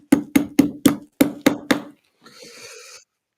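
Seven sharp hammer strikes in a steady rhythm on a captain's chair being reupholstered, close and loud, followed by a short stretch of quieter rustling handling noise.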